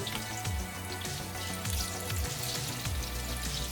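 Dense crackling sizzle of sweet plantains frying in a frying pan, steady and close, with faint low knocks recurring beneath it.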